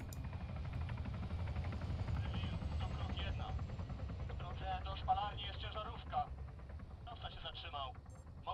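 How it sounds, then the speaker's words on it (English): A helicopter in the video game Arma 3 thrums with a low, steady rotor drone under radio-style voices talking, its chop rising and falling as it moves overhead. "You hear that? Sounds like a helo, moving target."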